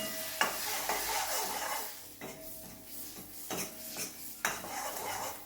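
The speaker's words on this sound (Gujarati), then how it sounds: "એની અંદર 1/4 ટીસ્પૂન જેટલી રાઈ એડ કરીશું અને 1 ટેબલ સ્પૂન ચણાનો લોટ. એને આપણે સરસ શેકી લેવાનું છે." Mustard seeds and gram flour roasting in a pan for a gravy chana curry, a soft sizzle under repeated spoon scrapes and clinks against the metal, with a few sharper taps.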